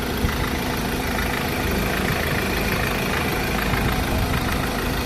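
A Ford Ranger engine idles with a steady, unbroken mechanical hum and rattle, loud and close, with no voices over it.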